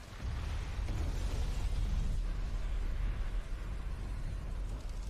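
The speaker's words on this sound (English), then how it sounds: "that explosion was clean." An explosion in a Kaiju No. 8 anime episode rumbles as a loud, sustained blast with heavy low boom and crackling debris, running for several seconds with no voices over it.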